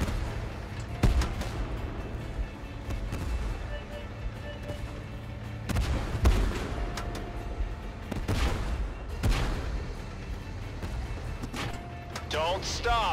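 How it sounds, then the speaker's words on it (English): Artillery bombardment in the tank combat video game Tank Force, with repeated heavy booms and blasts going off at intervals over a constant battle din, while players talk over the action. "We are under bombardment."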